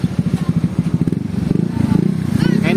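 A Rusi 100 motorcycle idles after its clogged carburetor was cleaned, a close, steady low putter that quickens slightly as the engine settles, with someone talking over it.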